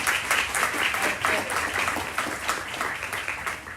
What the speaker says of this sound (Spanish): Pido un aplauso para Kiani Antigua.